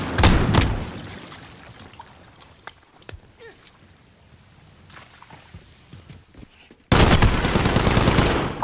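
Gunfire from the video game Call of Duty: Modern Warfare, a loud burst of shots at the start, quieter scattered sharp cracks through the middle, then a sudden sustained roar of loud noise near the end.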